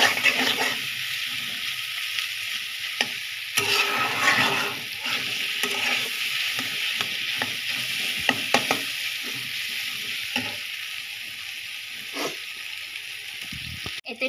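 Ingredients fry in a pan before noodles go in, a continuous close sizzle with stirring scrapes and occasional clacks of a utensil against the pan, with no talking.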